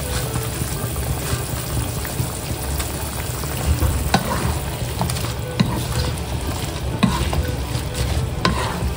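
Mustard greens with their stems going into a frying pan that already holds fried fish, a continuous loud sizzle with scattered stirring scrapes and clinks, close by and with no talk.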